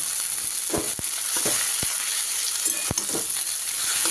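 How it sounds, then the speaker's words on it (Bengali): Chalta (elephant apple) pickle frying in a pan, a steady close sizzle with several sharp clicks and scrapes from stirring, no voices. "কিছুক্ষণ এইভাবে নাড়াচাড়া দিয়ে তারপরে এর মধ্যে আমি গুড় দিয়ে দেবো"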